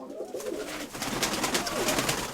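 Pigeons coo in a loft full of late-season squabs, several low throaty calls overlapping with scattered sharp clicks and flutters, close and fairly loud, with no one speaking.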